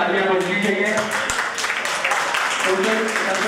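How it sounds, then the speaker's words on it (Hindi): A crowd claps in applause for a village sarpanch at a Martyrs Day gathering in Doda honouring Bhagat Singh, Rajguru and Sukhdev; steady dense clapping continues throughout while voices talk over it. "सदीक सरपंच इनके लिए जो है तालियां बजनी चाहिए।"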